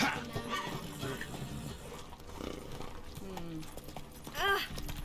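A horse galloping in the video game The Witcher 3: Wild Hunt, with rhythmic hoofbeats under the rider's shouted commands and grunts.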